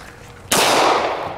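A .40 caliber handgun fires a single sharp shot at composite fabric, a loud close crack with a short ringing decay, preceded by a moment of quiet background.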